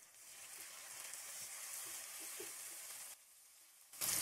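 Chopped tomatoes hit browned onions in a hot pan while cooking chicken tikka biryani, giving a steady broad sizzle that fades briefly near the end before flaring louder again.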